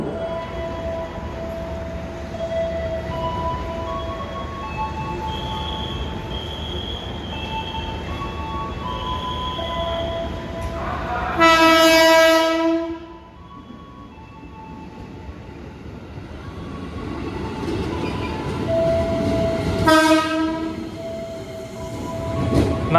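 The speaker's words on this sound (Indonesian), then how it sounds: "Nah, ini KRL Jogja Palur ya." An Indonesian KRL commuter train on the Jogja–Palur line rolls past with steady rail rumble and wheel noise, sounding two loud horn blasts, one midway and one near the end, with no talk over it.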